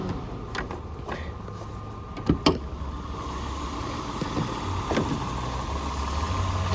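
A 2002 Acura CL with a 3.2-litre engine idles with a steady low rumble, joined by a few sharp clicks and knocks nearby.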